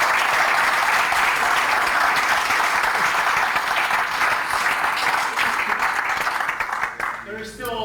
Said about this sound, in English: Yeah, big round of applause to Baz, right?